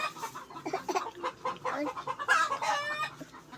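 A chicken clucks close by in a series of short, choppy calls that build to a louder squawk near the end, with no speech over it.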